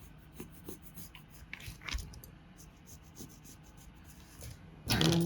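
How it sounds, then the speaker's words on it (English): A pencil traces a pattern onto paper while a dress dart is being marked out, producing soft, intermittent scratchy strokes at close range, with a louder rustle of paper near the end. "So with my pencil, I'll just pencil this out."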